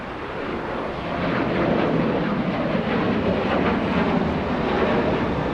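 An ABX Boeing 767 freighter jet at LAX makes a loud, steady roar that swells after the first second and holds, a dense broadband engine rush with no talk over it.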